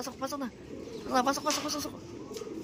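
Soft, repeated cooing of a pigeon nearby, a few rounded coos rising and falling over a faint background murmur.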